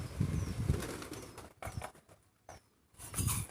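Pigeons gathering to eat scattered rice, with bursts of wing flapping near and loud at the start and end, brief flutters between, and soft cooing in quieter gaps.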